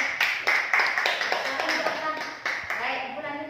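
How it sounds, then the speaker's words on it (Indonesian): Students clap in an Indonesian primary classroom, a short burst of hand claps under a teacher's voice speaking over them. "Tepuk tangan buat kamu"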